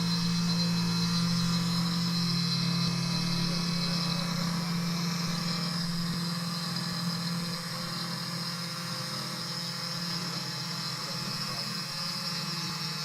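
A Comgrow CNC router engraves with a steady, continuous motor whine and high-pitched hum at close range, running evenly throughout with no voices.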